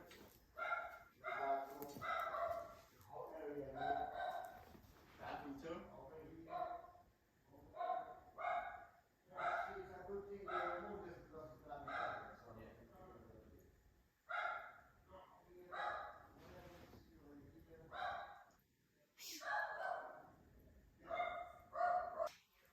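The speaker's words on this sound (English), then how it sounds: "If you hear the dog" A dog barks repeatedly in the background of a home where painters and tilers are working, a string of short muffled barks in clusters, fairly distant and faint.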